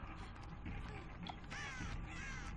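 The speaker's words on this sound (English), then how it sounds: "Shut up, birds." Crows caw in the video game Dead by Daylight, several harsh calls bunched toward the end over quiet ambient game sound.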